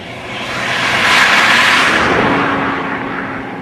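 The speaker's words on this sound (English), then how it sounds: "as the car passes, we hear the note change" A single car passing close by, its engine rushing louder to a peak and then falling away as the pitch drops, with a steady hum under the swell.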